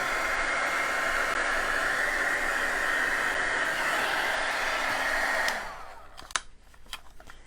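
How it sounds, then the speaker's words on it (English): A small portable hair dryer blows hot air onto paint, a loud steady whooshing hiss lasting over five seconds before it switches off, leaving a few faint knocks and rustles. "I've got a little portable hair dryer that Aisha gave me that works really well"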